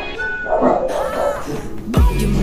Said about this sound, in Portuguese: Nossa, tem uns cachorros latindo,